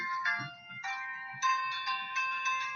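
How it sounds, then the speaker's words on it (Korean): A phone ringtone for an incoming call plays alone as a bright, repeating electronic melody in short phrases, fairly loud and close, with faint background rustle beneath. "전화가 왔네요"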